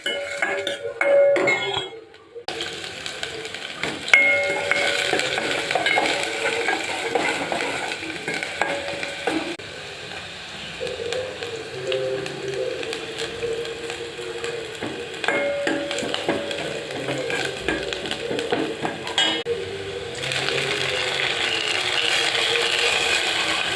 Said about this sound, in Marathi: हे सर्व थोड्या तेलामध्ये टाकून ह्या सगळ्या भाज्या